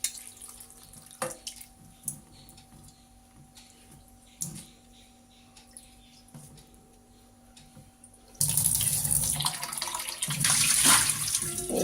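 Rose petals for gulkand are washed in water, with a loud, splashy swirl of sloshing water arriving suddenly after a quiet stretch of faint handling clicks.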